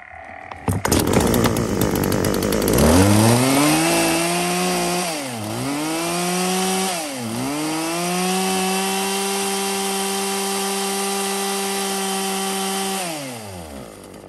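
A Husqvarna 36 chainsaw with a 36cc engine, made in the USA, starts up, revs twice in sharp bursts, then holds a loud, steady idle close by before shutting down, with no talking.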